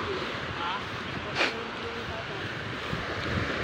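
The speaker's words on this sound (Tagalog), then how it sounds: "Malakas ang hangin, amihanin." Strong northeast monsoon wind at sea off a fishing landing, a steady roaring rush buffeting the microphone, loud and continuous, with waves underneath.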